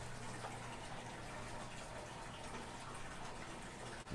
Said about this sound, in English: it just will make more sense for me to go ahead and put the rest of this water in here